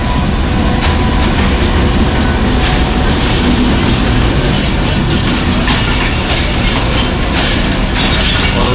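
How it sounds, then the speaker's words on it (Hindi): Passenger train pulling in at a station on a Rawalpindi line in the early morning, with steady loud rumble and rhythmic wheel clatter filling the whole stretch. "रावलपिंडी से सिस्टर ट्रेन जो है 102 डाउन सुबह की रफ्तार अप्रोच कर रही है"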